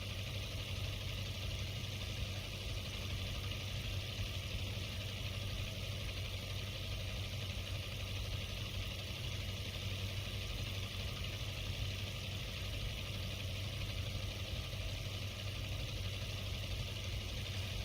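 A small lawnmower-like engine idles steadily in a video game, a constant low drone with an even, continuous rumble and no talk.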